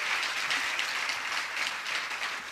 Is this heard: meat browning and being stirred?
no